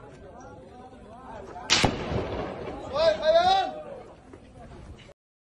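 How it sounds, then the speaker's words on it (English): A single sharp gunshot rings out from soldiers firing toward a diplomatic delegation in the occupied West Bank, followed by agitated voices and background commotion. "جيش الاحتلال لا زال يطلق النار باتجاه الوفد الدبلوماسي من القناصل والسفراء بين الدول"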